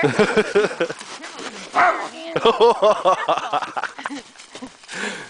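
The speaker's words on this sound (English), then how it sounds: "He's always yelping like a little biatch." Kaiser the dog yelps and barks in excited, rapid bursts at a tree, whining between barks, close and loud, with a person's voice chiming in now and then.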